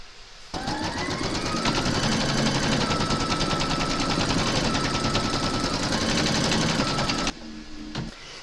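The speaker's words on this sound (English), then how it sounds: "I'm going to be using a red thread so that you can see what I'm stitching" Sewing machine stitching fabric with red thread runs in one continuous loud, rapid mechanical whir for about seven seconds, with a brief softer rattle from the machine after it stops.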